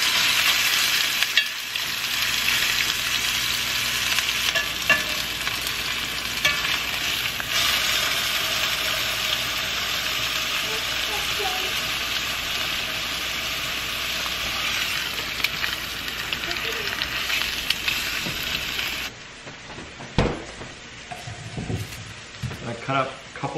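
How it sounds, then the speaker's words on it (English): Seasoned meat sears in a pot, giving a steady, loud broadband sizzle for most of the clip before it abruptly quiets near the end, where a few clanks and a faint voice come through. "Give it a quick sear on all sides."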